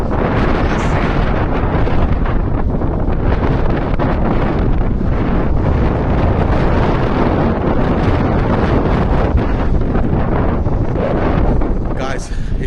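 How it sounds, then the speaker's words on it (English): Strong wind buffets the microphone near coastal mountains in Croatia, a loud continuous roar and rumble that stays dense for the whole stretch. "It's super windy here."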